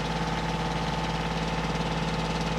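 A tractor engine idles close by, working near a red oak sawmill shed, with a steady, loud, even throb and no talking.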